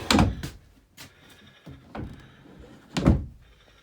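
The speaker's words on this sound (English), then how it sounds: "This drawer pulls out." A storage drawer under an RV dinette in an Alpha Wolf 26 DBH-L travel trailer slides out with a few soft thunks and knocks, the last bump the loudest, in a quiet interior.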